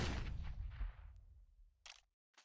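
A flashbang grenade goes off in CS:GO on the Inferno map: one sharp loud burst that decays into a ringing rumble, then two brief faint clicks follow.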